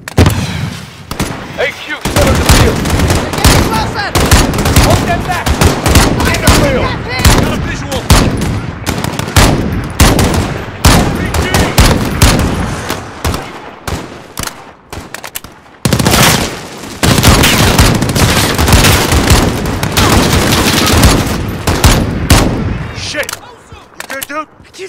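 Dense, sustained machine-gun and rifle fire from a Call of Duty: Modern Warfare embassy battle, near and loud, with brief lulls around the two- and sixteen-second marks, and voices shouting under the shooting.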